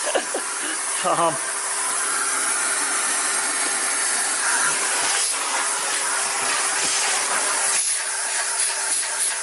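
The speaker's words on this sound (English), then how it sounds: "I like to just use straight suction." A central vacuum hose on straight suction cleans the interior of a car in a garage, making a loud, steady rushing hiss throughout, with brief changes in tone as the nozzle moves.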